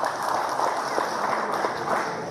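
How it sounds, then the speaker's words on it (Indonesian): Audience applause at a political declaration event where Yenny Wahid backs Ganjar-Mahfud: a dense, steady wash of many hands clapping together, holding an even level throughout without pauses. "Kita berikan tepuk tangan kawan."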